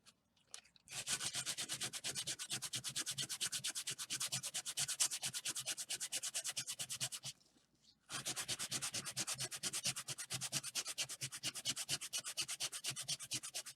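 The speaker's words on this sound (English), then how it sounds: "get back at it with the sandpaper" Sandpaper rubbing wooden toothpick fences in steady, rapid back-and-forth strokes, close and continuous, broken by one short pause midway.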